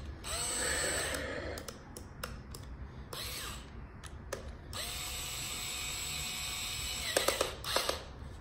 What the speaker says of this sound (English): let's screw this sucker back in